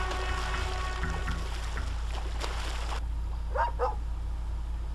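A dog barks twice in the Superbrothers: Sword & Sworcery EP video game, short mid-range yelps heard over a steady low drone and ambient game music after the music thins out.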